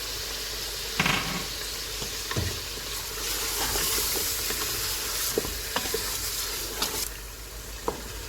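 Onion masala with turmeric, Kashmiri red chilli, dry ginger, nutmeg and mace roasting in a pan for mutton nihari, a continuous close sizzle with scattered knocks and scrapes of a spoon stirring against the pan.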